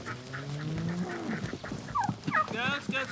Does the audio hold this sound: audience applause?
no